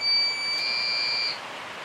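Steady electronic beeping from a UPS just after being plugged in, a few close, clear tones holding for about a second over a quiet room hiss.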